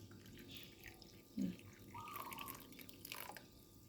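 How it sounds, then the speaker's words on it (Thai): Hot water trickles into a tea glass, a faint close pour with a brief splash and a thin rising stream over a quiet background hum. "แก้วชามาเติมน้ำร้อนเพิ่มก่อน"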